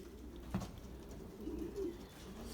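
Racing pigeons in a loft give low, soft coos, one brief bump early and a longer murmur later, over a steady low hum of the building.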